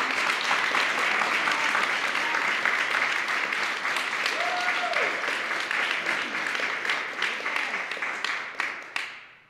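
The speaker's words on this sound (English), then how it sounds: "can y'all clap for Kevin?" An audience at the Saginaw Art Museum applauds its founder, a sustained wash of many hands clapping at close range that gradually thins out and fades near the end.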